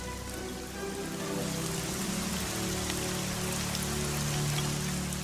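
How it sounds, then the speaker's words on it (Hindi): Steady, dense rain pattering on a surface, continuous for several seconds with no voices, close and fairly loud throughout. "परंतु बारिश होती रही।"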